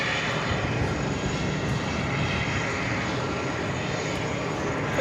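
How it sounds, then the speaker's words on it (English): A Frontier Airlines A321neo jet takes off at New York's JFK airport bound for San Juan, its engines producing a loud, steady, broadband roar that fills the whole stretch without letup. "Next takeoff is heading to San Juan at A321 to Neo Frontier"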